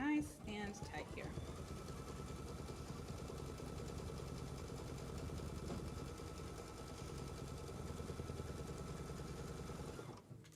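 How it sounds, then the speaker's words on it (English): An embroidery machine sewing a folding stitch on fabric for a zipper bag, a steady rapid mechanical whir and needle clatter running evenly for about ten seconds, close and moderate. "You run your next machine step, which is a folding stitch for this fabric."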